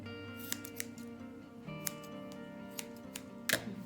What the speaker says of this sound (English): Then we're gonna trim even to the pink pad.